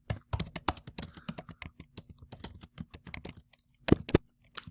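Rapid, uneven clatter of keys on a computer keyboard, close and fairly quiet, with brief pauses and a couple of louder final keystrokes.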